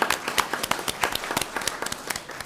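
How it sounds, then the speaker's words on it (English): A smaller group clapping at a school board business meeting, the individual claps distinct and uneven, steady at first and thinning out toward the end, no talk over it. "let's give them a round of applause"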